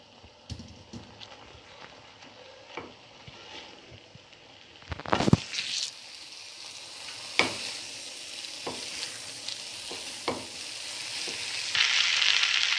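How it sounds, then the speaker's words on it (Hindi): Rice is added to frying vegetables and tossed for restaurant-style vegetable fried rice, giving a steady sizzle with intermittent scraping and clattering strokes of a spatula in the pan, one loud burst midway, and no speech. "मैं इसमें राइस ऐड करती हूँ और इसको हल्के हाथों से अब मिक्स करना।"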